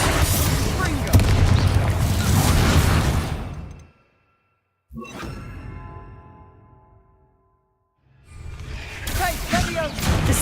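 Confringo fire spells in the video game Hogwarts Legacy blast in a dense run of booming explosions and whooshes, then a single heavy detonation fades out, before more loud blasts resume.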